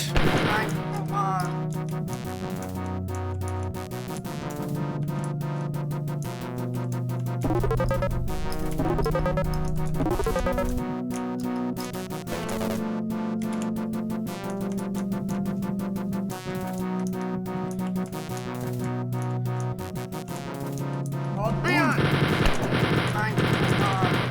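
Wolfenstein 3D chain gun firing in rapid, continuous bursts, loud and steady under a looping game music track with no one talking.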